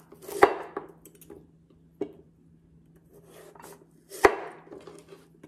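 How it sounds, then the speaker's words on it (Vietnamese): A kitchen knife cuts vegetables into thick pieces for a pork-hock noodle soup, giving a few sharp separate chops against a board with quiet gaps between, close and clear with no talking. "Mình xắt hơi dày dày cho nó đừng có bị nát á"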